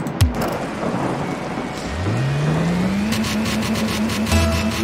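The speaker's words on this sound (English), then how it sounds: "I like the stormy sounds." Stormy thunder rumble and steady rain ambience in the Rocket League video game, mixed with rising car engine revving and boost whooshes, loud and continuous with no talking.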